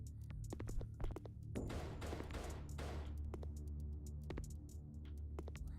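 Shotgun fire in the retro shooter Reincarnation 3D, a string of sharp, fairly faint game gunshots spaced irregularly over a low steady hum, with a denser burst of noisy blasts in the middle.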